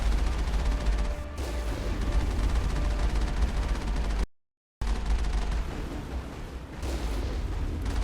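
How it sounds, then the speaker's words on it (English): Cannon fire in the video game Mass Effect: a loud, dense, continuous booming barrage that breaks off into a brief silence midway, then resumes just as heavy, with no voices. "Nothing beats a cannon."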